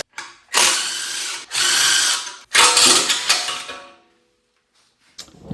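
Three bursts of torque wrench ratcheting and clicking as motor mount nuts are tightened on a 1997 Mustang Cobra, each burst roughly a second long, close and loud, then a pause and a short final click.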